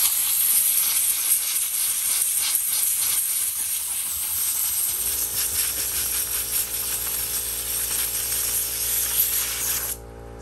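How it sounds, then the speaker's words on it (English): Compressed air blowing wood debris off a Palomino Colt XL camper: a continuous loud broadband hiss across the whole stretch, with a steady machine hum joining partway and the blast cutting off near the end. "we're gonna just use compressed air."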